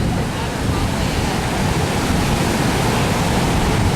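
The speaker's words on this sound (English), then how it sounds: "Waves definitely have increased in size here." Large hurricane-driven surf pounding the beach at Sosua, Dominican Republic, heard as a loud, steady, unbroken roar of breaking waves with no distinct gaps.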